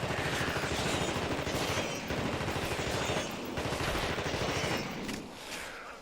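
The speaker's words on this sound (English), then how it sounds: "I think that's just an SMG." SMG fire in The Thing Remastered game roars in dense, continuous rapid bursts, loud and close, easing slightly near the end with no voices over it.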